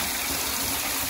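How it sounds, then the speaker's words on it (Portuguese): Water gushes steadily into a small pool as it fills, a loud, continuous rushing wash heard up close without any talking. "Piscina enchendo."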